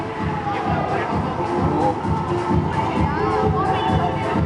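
Supporters cheer and shout at a school futsal match, a constant crowd roar filled with children's voices while a commentator talks over it.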